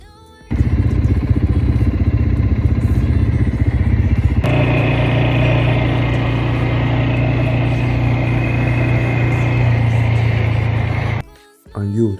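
A quad bike ridden in the desert, its engine roaring close and loud in a steady rasping drone that shifts pitch midway as it speeds up, then cuts off abruptly near the end.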